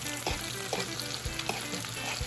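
Eggs frying in a pan while cooking a Jamaican breakfast, a steady crackling sizzle with occasional stirring scrapes and knocks, close and fairly loud throughout.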